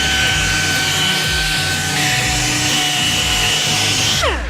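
A small power sander smoothing sharp edges on welded metal parts in a fabrication shop, a steady close whine with a high ringing tone running throughout, shifting slightly midway and winding down briefly at the end.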